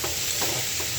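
Cabbage and potatoes frying in a pan, a steady close sizzle with faint stirring scrapes.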